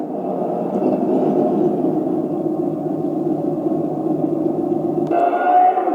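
A TK26 mainboard in a 1:16 RC tank produces a second simulated engine sound, a continuous droning rumble with a gritty texture that shifts to a higher, whining tone near the end.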